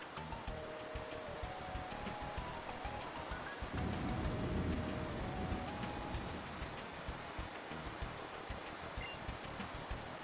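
Rain pouring over Sootopolis City in a Pokemon game, a steady hissing downpour with a soft melodic tone underneath and a louder swell of rumbling noise in the middle, like thunder rolling in.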